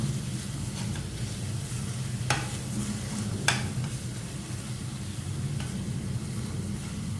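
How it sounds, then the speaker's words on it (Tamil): Ash gourd filling with jaggery being sautéed in a pan for ragi kozhukkattai, a steady low sizzle with a few sharp scraping stirs of the spoon, close and alone. "இதை நல்லா வதக்கணும் எல்லாமே சேர்த்து நல்லா வதக்கணும்"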